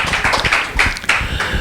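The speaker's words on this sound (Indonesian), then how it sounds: "Kita berikan tepuk tangan." A short burst of scattered hand claps from a small group, irregular and close, lasting under two seconds with no talking over it.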